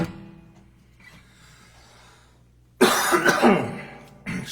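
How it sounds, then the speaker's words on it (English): A man coughs in a burst of harsh, rough coughs in a living room, loud and close after a quiet stretch of soft background sound, with a brief further cough at the end. "Excuse me about the coughing and the choking"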